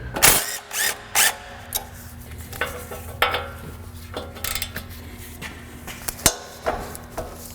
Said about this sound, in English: I'm gonna also remove the caliper. I'm gonna remove these two bolts